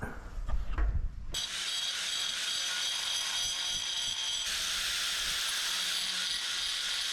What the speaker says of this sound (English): we're gonna turn the angle grinder up on end and start using the rounded part of the blade to form a dish on that flat part